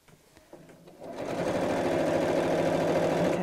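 Sewing machine stitching a seam on a double zip pocket bag, a few soft clicks and then a steady whirring run of rapid stitches that holds loud and close to the end.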